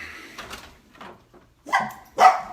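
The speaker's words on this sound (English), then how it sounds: "Oh, here come the dogs." Dogs bark indoors in a few short bursts, with a softer whimpering yelp early on and two louder, close barks toward the end.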